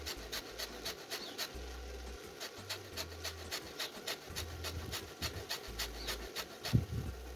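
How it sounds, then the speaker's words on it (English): An orange rubbed against a grater for zest in a home kitchen, a quiet, quick rhythmic rasping of repeated short strokes close by, with no talk. "So you take your grater and you use this part of the orange."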